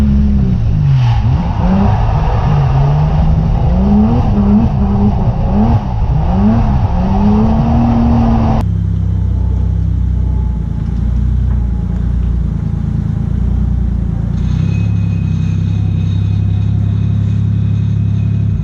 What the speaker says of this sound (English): This is the first time I'm drifting here with the snow.